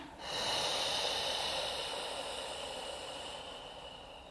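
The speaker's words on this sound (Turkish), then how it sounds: "Yukarı doğru nefes aldım" A single long, deep breath during a pregnancy breathing exercise, a steady airy rush that swells quickly then slowly tapers off, close and alone without talking.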